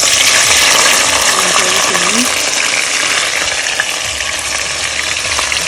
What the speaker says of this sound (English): I'm about to put in the vegetable so you can saute